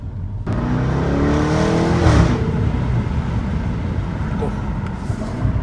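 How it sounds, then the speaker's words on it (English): A loud V8 engine revs up and roars steadily close by, its pitch rising then settling into a deep rumble as the car drives off. "God, I love the sound of that V8,"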